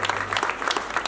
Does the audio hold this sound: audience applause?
yes